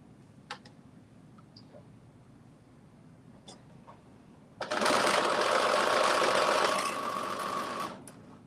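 A sewing machine runs a long basting stitch along a knit garment edge: a few soft clicks and handling taps first, then a steady close motor whir lasting several seconds before it stops.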